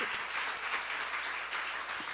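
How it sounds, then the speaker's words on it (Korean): A church congregation at a seminar claps together in a brief, steady round of applause heard from a moderate distance. "박수로 하지."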